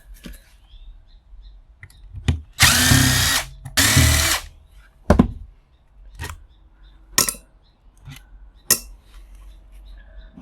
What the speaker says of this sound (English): 2 more screws to remove